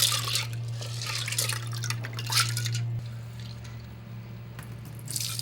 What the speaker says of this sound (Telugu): ఒకసారి రెండుసార్లు కొంచెం నీళ్ళు పోసుకొని కడుక్కుంటే తెల్లగా అవుతుంది